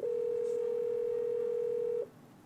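A Cisco 7975 IP phone, dialing an entry from its directory, gives a clear, steady electronic tone that holds for about two seconds, then cuts off into faint room hiss.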